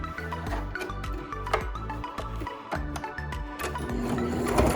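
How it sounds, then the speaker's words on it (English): A sewing machine back stitches a fabric face mask, a close, rhythmic mechanical whirr of needle strokes in short bursts with brief pauses between them, and no talk. "Again, we're gonna back stitch. We wanna make sure that corner is still tight."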